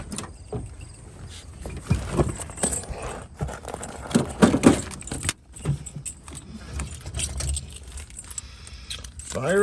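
A 1967 Chevrolet Camaro with a Duralast battery: keys jangle close by inside the car, amid rustling handling noise, and the engine begins to catch and swell louder right at the end.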